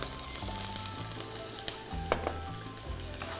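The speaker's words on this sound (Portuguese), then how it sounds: "E vamos fritar o nosso coraçãozinho de frango da marca Bela." Chicken hearts frying in olive oil in a pan, a steady dense sizzle with occasional pops and crackles, close and continuous with no voices.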